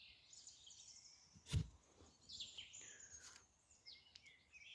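Several birds near a small forest chirp and trill softly at a distance, with one brief louder thump partway through and otherwise calm outdoor quiet.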